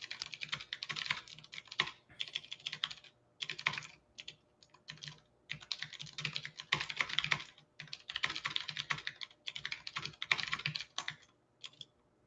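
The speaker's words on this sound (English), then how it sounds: "There's something very cathartic about hearing your typing." Rapid clacking keystrokes on a mechanical keyboard, typed in uneven bursts with short pauses, close and clear, no talking.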